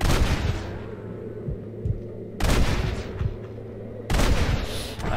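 Gunshots in Red Dead Redemption, three heavy booming reports spaced a couple of seconds apart, each trailing into a rumbling echo over low background sound.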